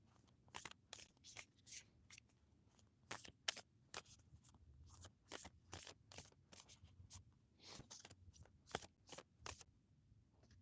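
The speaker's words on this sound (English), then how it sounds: "let's go ahead and give this a shuffle for Lily." Cards being shuffled in quick, irregular riffling bursts, crisp papery flutters and snaps at close range, with no talking.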